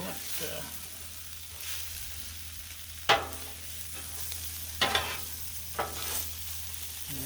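Beef and vegetable stir fry sizzling on a Blackstone griddle, a steady frying hiss with a few sharp spatula scrapes and clinks against the flat top.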